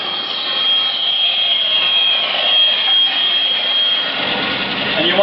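A bandsaw blade runs through a wooden panel with a steady, loud mechanical whine and a thin high tone held throughout, while a person talks over the machine.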